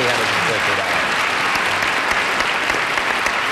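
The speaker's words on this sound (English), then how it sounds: "Will you applaud for Nancy?" A game-show studio audience applauds steadily for a contestant, a dense, even roar of clapping filling the whole span.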